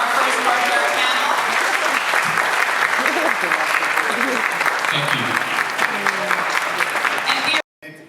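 Loud, sustained applause from an audience for panelists at a reparations panel in a hall, thick continuous clapping with crowd murmur that runs for several seconds before cutting off abruptly near the end.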